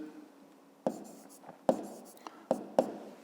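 Pen strokes on paper during a fifth-grade maths lesson, a few short scratchy bursts spaced irregularly, close and fairly quiet, with no talking.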